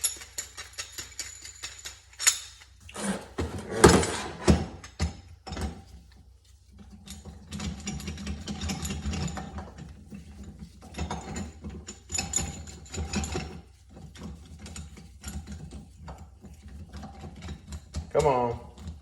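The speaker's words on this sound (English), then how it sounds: "We gotta loosen up our gear puller so it'll fit around the bearing." Metal clicks, ratcheting and scraping from loosening a gear puller to fit around a Yamaha Banshee crank bearing, close and intermittent, with a denser stretch of mechanical rattling in the middle.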